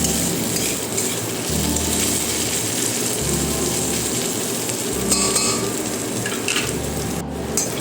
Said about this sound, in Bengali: দেখতে পাচ্ছেন আমি পেঁয়াজগুলিকে ভালোভাবে ভেজে নিচ্ছি